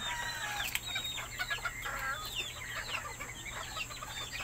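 Chickens being fed cluck and chatter in a close, busy mix of repeated short calls, with no talking.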